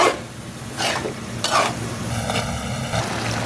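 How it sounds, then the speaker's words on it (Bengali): Mixed vegetables and shrimp being sautéed in a pan, with bursts of scraping stirring strokes over a continuous sizzle and a low steady hum underneath, no voices. "আমার সবজি চিংড়ি সব কষানো হয়ে গেল।"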